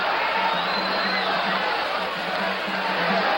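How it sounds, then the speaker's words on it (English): Boxing arena crowd cheering and shouting as the action quickens late in a round, a loud, sustained roar with rising whoops that carries steadily across the whole moment. "The action quickens. The crowd picks up"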